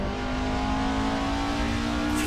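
Engine of a Honda Acty kei truck, modded into Assetto Corsa, drones steadily at high revs with a strong constant tone, close and loud throughout with no voices.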